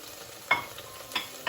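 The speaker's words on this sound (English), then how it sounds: "go ahead and stir the sauce" A spoon stirring a tomato and spice curry sauce in a hot pan, two or three soft scraping strokes over a faint sizzle, close and brief with no talk.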